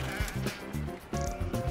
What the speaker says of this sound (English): Guinea pig was going mental.